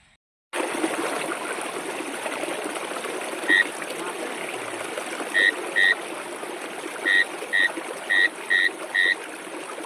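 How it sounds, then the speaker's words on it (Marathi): A small stream in the Konkan countryside bubbles and babbles continuously, close and steady, with a few short high tonal chirps dotted over the flowing water. "पर्यामधलं खळखळणारं पाणी"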